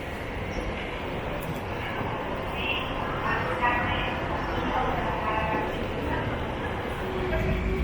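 A Frecciarossa 1000 high-speed train rumbles steadily into Milan Porta Nuova station, a continuous rolling roar with faint squeals, while a dog barks briefly and people talk in the background.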